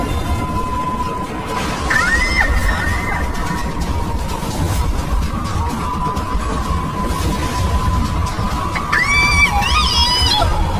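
A witch's spirit screams in a cartoon horror story set in a village: two brief, rising, wailing cries over a steady electronic drone and background noise.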